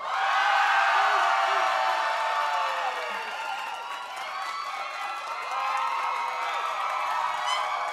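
A studio audience cheers and applauds for a couple on an elimination vote, a loud sustained crowd roar with whoops that dips slightly midway and swells again.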